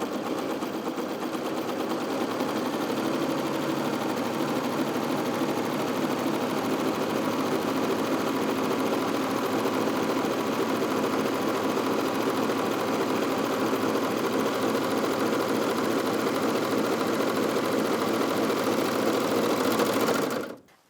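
A Bernette b68 Airlock overlocker sews a rolled hem, its fast, even mechanical whirr running nonstop and loud up close for about twenty seconds before cutting off abruptly at the end.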